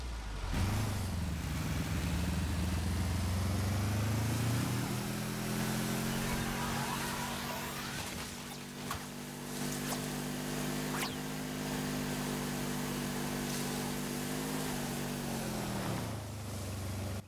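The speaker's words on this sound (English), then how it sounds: "I do like the new engine sounds." A vehicle engine in the Trailmakers video game, a skinned in-game engine sound, runs as a steady droning hum with a rise in pitch early on, holding level and loud for most of the span before dropping off near the end.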